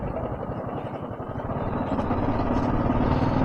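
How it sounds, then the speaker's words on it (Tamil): Vehicles pass along a road in Kodaikanal, a steady, moderately loud engine rumble that builds slightly as traffic moves close by. "நிறைய வண்டி வருதுங்க."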